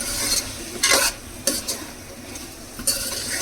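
Mutton curry with ground cinnamon, cumin and cardamom being stirred in a pan, a spoon scraping in a few distinct bursts over a faint low sizzle, close and fairly loud, with no voices.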